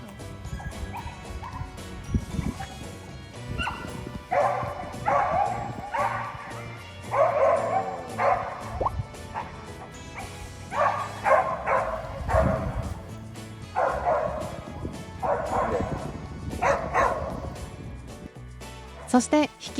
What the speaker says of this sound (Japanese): 他の犬が吠えているこの状況